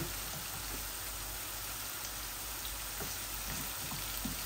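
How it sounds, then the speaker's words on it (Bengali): Potatoes frying in a small pan, a dense, even sizzle that holds steady throughout with faint crackles, close and without talk. "এই যে আলুগুলো একটু ভাজতেছি"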